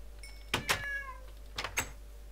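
A Minecraft cat gives two pairs of clear, close meows, each pair made of short bright mews that rise and fall, with quiet pauses between them.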